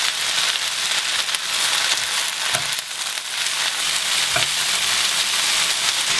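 Vegetables fry in a pan until wilted, a dense, even sizzle like light rain that holds steady and close, with a couple of brief soft utensil taps and no voices.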